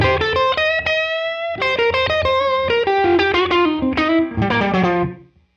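A Les Paul electric guitar runs through a Neural DSP Tone King Imperial amp plugin, playing clean blues chords and sliding notes with a warm, sustained tone that fades out at the end.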